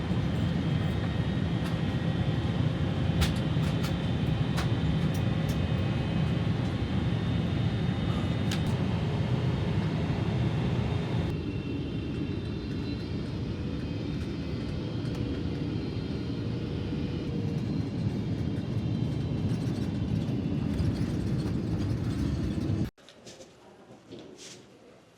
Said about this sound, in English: Just landed in Manila